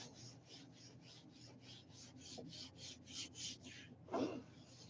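Paper rubbed by hand onto a gel printing plate inked with acrylics, a steady rhythmic rasping swipe repeated about a dozen times in quick strokes, close and moderately loud, with a brief louder rustle near the end.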